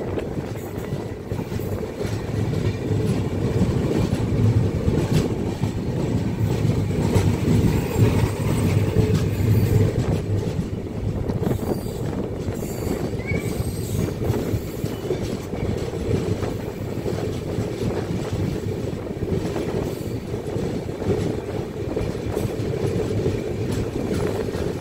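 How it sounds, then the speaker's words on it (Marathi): A Nanded–Raichur passenger train hauled by a WAP4 electric locomotive rolls past, a loud, steady rumble with rattling coaches that holds through the whole stretch and eases off slightly near the end. "ती आता रायचूरहून परभणीला चाललेली ही ट्रेन आहे मित्रांनो."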